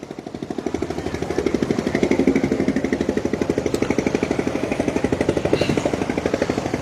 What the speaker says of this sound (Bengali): একটি নৌকা চলে যাচ্ছে জেলে নৌকা